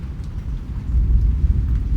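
Heavy rain falls with deep rumbling thunder, a dense low roar swelling louder midway, close and continuous with no voices.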